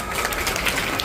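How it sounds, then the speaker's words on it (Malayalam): An audience applauds, a dense, even wash of many hands clapping that stays steady and close throughout the short moment. "അപ്പൊ അവർക്ക് നല്ലൊരു കയ്യടി കൊടുക്കാം"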